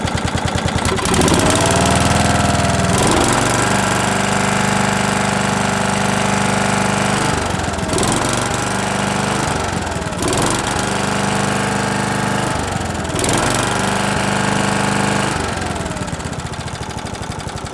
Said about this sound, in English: Now I've got it ticking over nice. Also, we can do a bit of revving as well.